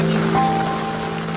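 Heavy monsoon rain pours down in Gariyadhar, a dense steady wash of drops hitting surfaces with a low tonal hum running beneath, continuous and close.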